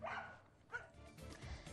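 Rescue dogs bark in short yips and woofs at a low level, a couple of brief barks rising over a muffled background.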